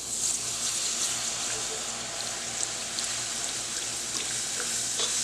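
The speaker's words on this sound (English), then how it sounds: "So we're going to add the milk to this." Milk going into a hot pan for a cheese sauce, a dense even hiss and bubbling simmer with a few faint clicks of stirring, close and continuous for a few seconds.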